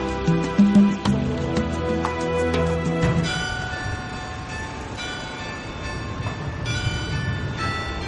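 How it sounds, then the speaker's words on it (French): A tram rolls over newly refurbished track and curves, opening with a loud sustained tonal squeal and ringing that gives way to steady rolling rumble with faint metallic tones, heard alone without voices. "La voie est opérationnelle, le premier tramway circule."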